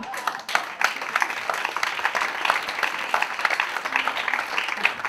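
An audience applauds at a Barcelona comedy show, a dense, steady wash of clapping that holds across the whole stretch without letting up.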